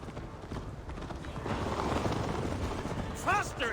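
Horse hooves clattering at a gallop in the Viking-era video game Assassin's Creed Valhalla, a rapid, muffled drumming under game sounds and a voice.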